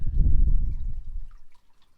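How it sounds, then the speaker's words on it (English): Water flowing in a garden water feature, a soft steady rush and trickle that stays fairly loud for about a second and a half, then thins out to faint drips near the end. "If you can hear the water flowing in my water feature,"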